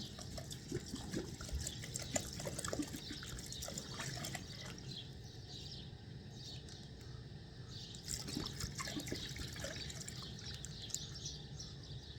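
Water is poured into a cooking pot, a faint close trickle and splash with scattered drips, going on for several seconds amid quiet background noise.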